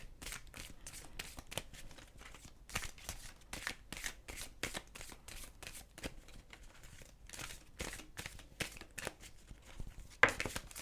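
Tarot cards shuffled by hand in a steady run of quick riffling bursts, each a crisp papery flutter, close and fairly quiet, with a sharper snap near the end and no talking.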